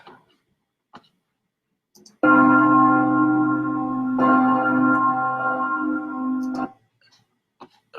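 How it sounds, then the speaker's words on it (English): A church bell tuned to F2 rings loud and sustained for about four seconds, its deep hum layered with bright overtones, with a second strike partway through, then fading into near silence. "F2 church bell."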